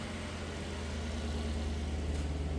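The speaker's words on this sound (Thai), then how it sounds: "สตาร์ทรถเรียบร้อยนะครับ สตาร์ททีเดียวติดเลย" The engine of a Lexus GS F idling after a start: a steady, close, low rumbling hum with an even pulse that holds constant throughout, with no voices.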